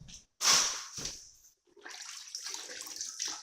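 Water poured or splashed onto a cleaning towel during a construction cleanup, with a sharp splashing burst at the start followed by a softer, uneven trickle and dripping for a few seconds.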